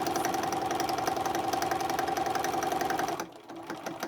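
A sewing machine runs at a steady, fast whir with rhythmic needle clatter while stitching a red velvet tote bag, then stops abruptly near the end, leaving faint handling noise.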